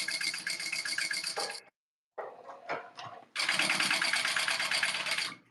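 A sewing machine stitches along a fabric strap in loud, steady bursts, with a short pause and a few quieter clunks between two long runs of rapid stitching.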